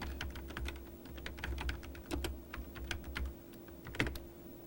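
Rapid, steady keystrokes on a computer keyboard as an email subject line is typed, close and clear with a few louder taps scattered among the light clicks and no talking.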